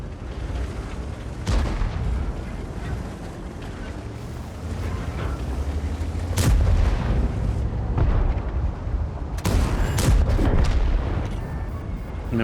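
Heavy tank cannon shots boom out in a World of Tanks battle, with several sharp, loud blasts spaced a few seconds apart over a constant rumble of engines and battlefield noise.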